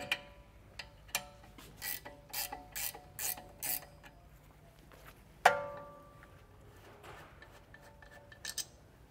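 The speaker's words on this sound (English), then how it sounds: "Allow me to get that screw free." A ratchet works a thread-locked screw loose on the rear brake of a Mercedes-Benz W166, producing a run of sharp rhythmic ratcheting clicks, one louder metallic clunk, then a few faint scattered taps.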